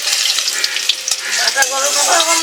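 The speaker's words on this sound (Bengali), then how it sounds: "একটা শুকনো লঙ্কা দিয়ে দিচ্ছি, পেঁয়াজ কুচানো দিয়ে দিচ্ছি, হাফ পেঁয়াজ" Chopped onion and a dried red chili frying in a pan for a spicy fish curry, a bright crackling sizzle up close with small pops and clinks, faint voices heard behind it.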